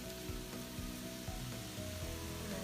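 Chard and browning mushrooms sizzle in a pan, a soft, steady frying crackle with faint clinks and shifts of stirring, quiet and without talk.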